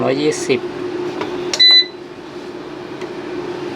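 A short high electronic warning beep from an Anern 3.5 kW 24 V inverter sounds once amid a humming room and brief background voices.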